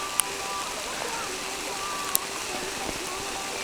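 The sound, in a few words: rain mixed with snow falling in a forest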